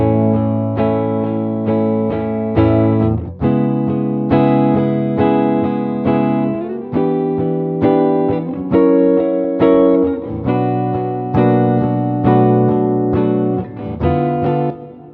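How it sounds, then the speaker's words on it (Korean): Clean electric guitar tone through Paradise Guitar Studio, with room reverb and 224 digital reverb added. Strummed chords ring out loud and alone, each sustained and changing every couple of seconds, with a spacious, airy tail. "여기에 룸 리버브와 224 디지털 리버브를 더해 보겠습니다."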